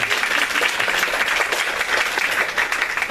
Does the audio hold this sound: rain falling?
no